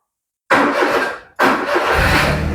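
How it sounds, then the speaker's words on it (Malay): A Perodua Viva 850 with a 850 cc engine, started by bridging the ignition wiring, cranks and fires after a silent pause, stumbles briefly, then catches again and runs steadily, loud and close. "Engine hidup dengan hanya berdasarkan di kabel."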